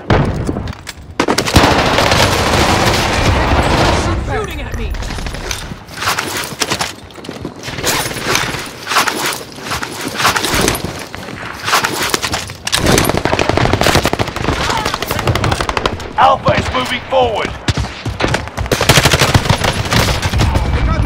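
Machine gun fire in the Warzone video game on Rebirth Island, with an M1918 BAR and M1A1 Thompson. The bursts are loud and repeated across a dense stretch of gunfire, with brief gaps between them and faint game voices underneath.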